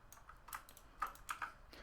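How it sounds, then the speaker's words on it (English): Quiet, irregular clicking of keys on a mechanical computer keyboard, a run of light taps with a few sharper strokes, faint in the background of a room. "I apologize if you can hear my keyboard in the background."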